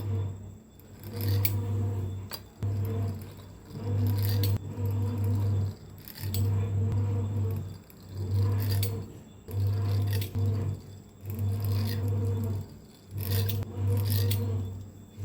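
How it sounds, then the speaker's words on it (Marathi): Rolled-out shankarpali dough being cut into pieces on a board, heard as close scraping cutting strokes repeating in a steady rhythm roughly every second and a half over a low steady hum, with no talking. "आता कापून घेऊया आपण ह्या पद्धतीनं बघा दाखवल्या पद्धतीनं"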